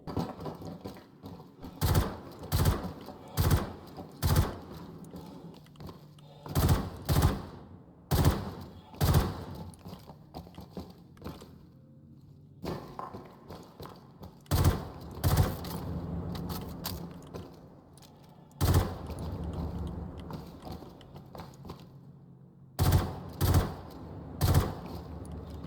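Gunfire in the Star Citizen video game: loud, sharp shots ring out in irregular bursts and clusters, with some rapid runs of rounds and brief pauses between volleys.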